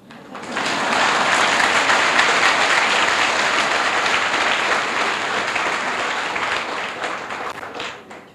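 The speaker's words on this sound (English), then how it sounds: "please give Venerable Wei Wu an applause." An audience at a talk breaks into sustained, dense applause that rises quickly, holds steady for several seconds and then fades out.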